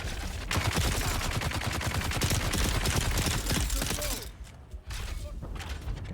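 Rapid automatic gunfire in Space Marine 2, a loud dense stream of shots for about four seconds that briefly drops away, then more fire and clatter follow.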